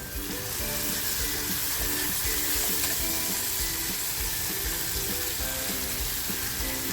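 Tomato puree poured into a hot pan of onions for a matar batata bhaji, a steady loud sizzle and crackle of frying that holds evenly throughout, close up with no talking.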